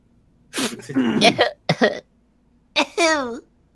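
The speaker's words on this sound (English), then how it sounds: "Cough." A person coughs a few times in short harsh bursts, then voices a drawn-out sung-like vocal, close to the microphone in a quiet room.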